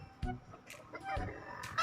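A chicken clucks and crows in short bursts, close by, with faint voices around it.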